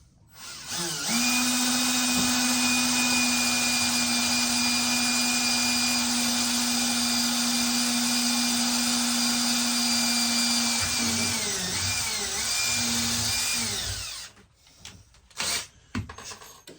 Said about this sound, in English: So this is my pilot hole.